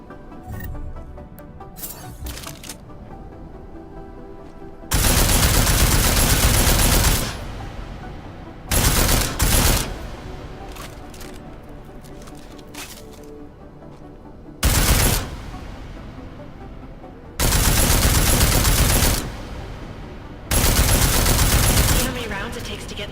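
Loud bursts of gunfire from the video game Deus Ex: Mankind Divided, fired at an armored target, come in several sustained volleys separated by short pauses, with quieter ambient game sound between them.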